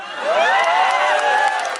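A large crowd at a political speech cheers and shouts loudly in one continuous burst, with whoops rising over a dense roar of voices.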